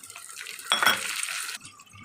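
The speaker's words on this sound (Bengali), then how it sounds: "পেঁয়াজটা ভাজা হয়ে গেছে, এবার টমেটোগুলো দিয়ে দিচ্ছি।" Tomatoes drop into a pan of frying onions and potatoes, setting off a sudden surge of sizzling that lasts about a second before fading back to quieter frying and faint kitchen clatter.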